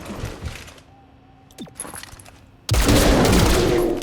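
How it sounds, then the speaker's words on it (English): Gunfire in XCOM Chimera Squad starts with scattered shots and a whooshing sweep, then erupts into a loud, sustained burst of rapid fire near the end. "And now you're gonna shoot."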